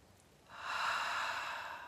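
A slow, deep cleansing breath drawn and released during a calm guided breathing exercise, a soft airy rush rising after a quiet half-second and holding steady, close and unaccompanied by talk.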